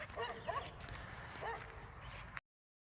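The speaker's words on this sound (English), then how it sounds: "And the doggy's up there barking at me." A dog on a hiking trail area barks a few short, yipping times at a moderate distance amid faint outdoor background noise, ending abruptly.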